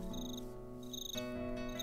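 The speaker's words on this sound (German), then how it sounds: "Hallo, kleine Grille!" A cricket in Minecraft chirps in short, evenly repeated bursts, loud and close, over steady background game music with no talking.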